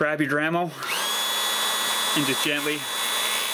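A Dremel rotary tool grinds down a Volkswagen key, a steady high whine with a sustained tone that starts after a few spoken words and keeps running under brief talk.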